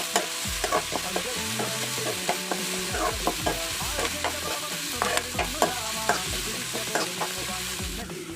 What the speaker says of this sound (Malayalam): പച്ചമുളക് ഇടാം. കരിയാപ്പല, ഇഞ്ചി അതിട്ടങ്ങോട്ട് ഇളക്കാം.